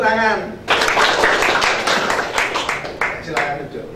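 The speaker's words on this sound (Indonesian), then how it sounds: "tepuk tangan" Students in a classroom clap hands in unison after a teacher leads a counted clapping routine. A voice sounds briefly first, then a dense burst of near, loud clapping with a few sharper accents continues to the end.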